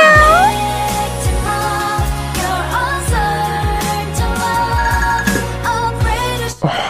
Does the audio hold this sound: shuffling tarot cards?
no